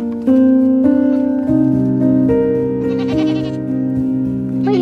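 A goat on a homestead bleats close and loud in a long, wavering call, broken into several pulses over a few seconds and heard alone without talk.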